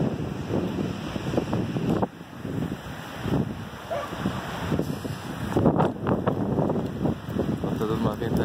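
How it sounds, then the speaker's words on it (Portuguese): Strong, gusty wind blowing through an outdoor park square in Curitiba, rumbling and buffeting the microphone in uneven surges, with faint voices underneath. "Tá dando uma ventania, mas não vai chover."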